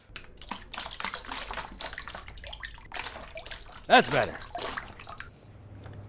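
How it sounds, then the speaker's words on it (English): Water lapping and sloshing against the rotting pilings of an old abandoned wharf, a radio-play effect with irregular splashes and a brief louder slosh midway, played under a man's spoken lines. "I say you can hear the water lapping around an old wharf"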